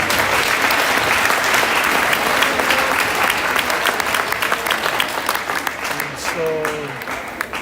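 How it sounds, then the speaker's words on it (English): A school gym crowd at a district sports event claps and cheers loudly for graduating seniors, dense continuous applause that thins slightly toward the end, with a voice and faint tones briefly rising over it. "Round of applause for all the seniors."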